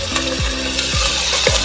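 Meat sautéing in a little cooking oil, with a steady close sizzle and crackle and a few low scrape strokes of a spatula stirring the pan, no voices.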